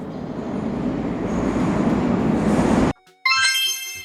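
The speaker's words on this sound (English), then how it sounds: "A commuter train carries workers and students daily." Commuter train rumbling past with a loud broad roar that cuts off abruptly, followed after a brief silence by a bright ringing bell or chime.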